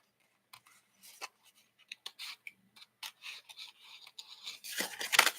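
Scissors blades are scraped along the edges of cut cardstock pieces to strip off burrs, giving a string of short, dry rasping strokes that grow louder and denser toward the end, with no talking.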